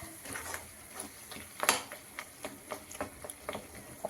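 Spoon scraping and stirring mutton keema pepper fry in a pan, soft irregular clinks and scrapes with faint sizzle, one sharper knock midway, fairly quiet.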